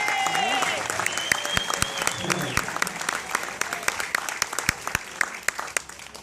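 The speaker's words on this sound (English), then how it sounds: "So a big round of applause for Taylor Ford" At a Sheboygan A's Hall of Fame ceremony, a crowd gives Taylor Ford a big round of applause for his no-hitter, with dense clapping and sharp nearby claps, and voices and a whistling tone heard in the first seconds.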